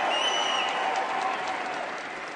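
A record, packed crowd at a Trump rally in Lowell, Massachusetts applauds in a dense, continuous wash of clapping with faint whistles on top, loud and steady before easing slightly.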